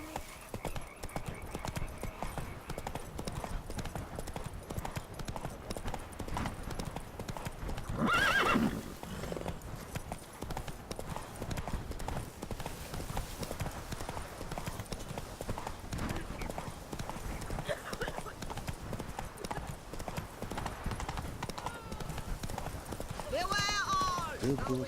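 Hooves of the horse Roach clip-clop at a steady gallop in The Witcher 3: Blood and Wine, with a whinny and game sounds mixed in, while someone talks over the action.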